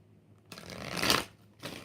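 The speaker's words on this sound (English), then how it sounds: "3 shuffles." A deck of tarot cards is shuffled close by: a soft riffling burst that swells and fades, then a brief second rustle, with no talking.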